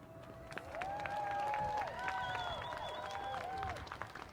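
Outdoor audience applause for an elementary school choir at a holiday festival of lights ceremony, a soft steady patter of clapping lasting several seconds, with tonal whistles or squeals sounding over it.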